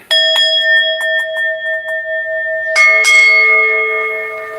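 A bell rings clearly, a few quick bright strikes followed by a second, richer strike whose ringing tones sustain and slowly fade, with no talk over it.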